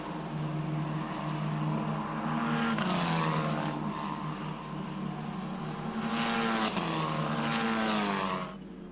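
Formula 4 race cars at an Australian championship race scream past on track, engines rising and falling in pitch as two cars sweep by in turn, loud and close with no commentary over them.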